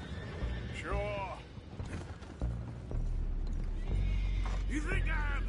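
Horses whinny in the Red Dead Redemption 2 video game, two loud shrill neighs with hooves clopping, creaking mechanisms and voices mixed underneath.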